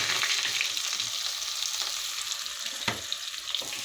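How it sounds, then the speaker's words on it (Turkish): Onions fry in hot oil in a pan as the first step of a maqluba, giving a steady close sizzle throughout with a brief louder crackle and stir near the end. "Şimdi ilk önce yağımızı koyduk. Soğanımızı kavurmak için atıyoruz."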